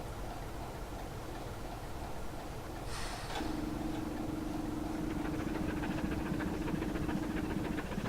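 A train rolls across the Grosmont level crossing gates, a steady rumble joined by a sharp hiss and then a sustained tone with faint rhythmic clicking.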